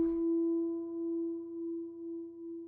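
A soft, pure guitar harmonic rings on, its volume slowly pulsing in a regular wobble as slightly out-of-tune strings beat against each other.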